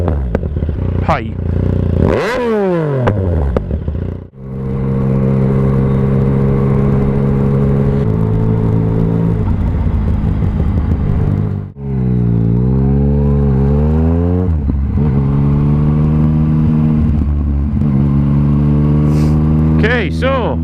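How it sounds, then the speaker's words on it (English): A motorcycle fitted with a Black Widow exhaust roars up through the gears at full acceleration, the loud engine note climbing, dropping at each shift, and climbing again, close and continuous. "Okay, so full whack acceleration. See what it sounds like."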